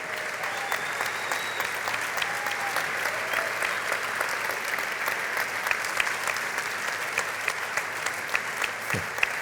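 Sustained applause from a seated audience at a foundation's anniversary ceremony, even and continuous crowd clapping at moderate distance, with a brief voice near the end.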